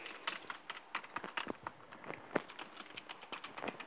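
Rapid, light computer keyboard and mouse clicks during a Fortnite session on PC, a dense irregular patter of taps at close range with no talking.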